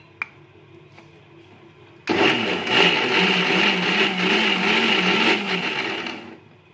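A mixer grinder blends gram flour into a freshly ground paste for a buttermilk besan dish, starting abruptly after a near-silent moment with a single tap, then whirring loud and steady for about four seconds before winding down.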